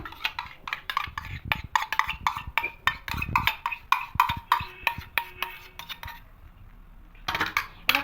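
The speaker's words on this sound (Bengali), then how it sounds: "খুব ভালো করে আবার মাখিয়ে নেবো পেঁয়াজগুলোকে খুব এভাবে চটকে চটকে মাখাবো" Chicken being kneaded by hand with small onions and sour yogurt in a clay pot kitchen, a rapid irregular run of close wet squelches and clinks, pausing briefly near the end before resuming.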